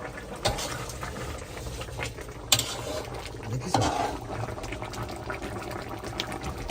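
Magur catfish curry boiling in a pot on a home stove, a steady close bubbling simmer with a few brief clatters, no voices.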